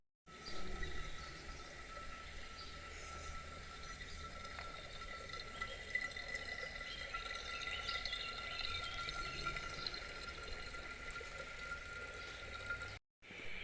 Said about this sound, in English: I'm going to fill up the bottles.